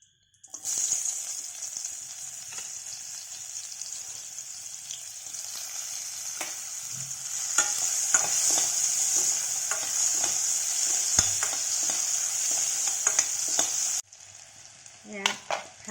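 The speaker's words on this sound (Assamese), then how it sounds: "এয়া ফ্ৰাই হৈ গ'ল পিঁয়াজখিনি।" Onions fry loudly and continuously in a pan just used for frying eggs, a bright, close hiss with occasional stirring knocks. It cuts out abruptly before a few last clatters. No one speaks.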